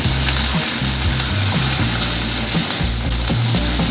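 Curry leaves and dried red chillies frying in a pan: loud, continuous crackling sizzle up close, with scraping stir strokes and a low steady hum underneath.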